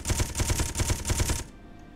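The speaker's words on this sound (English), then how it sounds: "he's shooting at me already" Rapid automatic gunfire from an enemy ship in the Space Engineers video game, a loud, dense burst of repeated shots lasting about a second and a half before cutting off abruptly.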